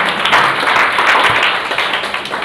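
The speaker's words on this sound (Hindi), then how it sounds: "ताली बजाओ गुड़िया के लिए" Children in a classroom clap together, a dense, loud patter of many hands sustained throughout, with no talking over it.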